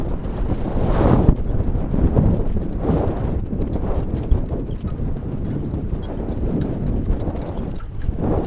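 Harness racing horse trotting at a race at Invercargill, its hooves clip-clopping in a fast, regular rhythm, close and loud under heavy wind rush from the moving sulky, with no talking.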